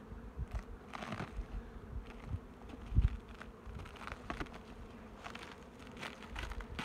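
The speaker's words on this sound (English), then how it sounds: "we're going to look inside a beehive and see what we find" Bees buzz inside an opened beehive in early spring, a dense close swarm of hums with scattered louder passes and a brief knock midway.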